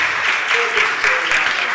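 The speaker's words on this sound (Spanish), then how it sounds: "Un gran aplauso." An audience at a Los Angeles city council meeting gives a big round of applause, a dense, loud and steady wash of many hands clapping together, with faint voices mixed in underneath.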